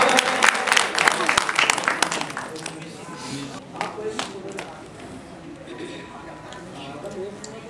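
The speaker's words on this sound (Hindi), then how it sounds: "एक बार जोरदार तालियां उनके लिए भी।" Loud applause from an audience at a Hindi-language stage event as a guest is called up, dense clapping strongest at first, then thinning into a lighter, scattered patter under background voices.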